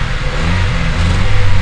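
A Honda Civic engine running rough and skipping, a loud close mechanical drone with low uneven pulsing and a slight rise in pitch partway through.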